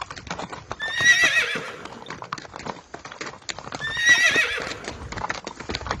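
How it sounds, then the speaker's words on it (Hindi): Hooves clip-clop in a steady trot throughout a cartoon scene, with two loud, drawn-out horse whinnies rising over the hoofbeats, one early and one later. "अगले दिन वह घोड़ा वापस आ गया और अपने साथ एक और घोड़े को लाया।"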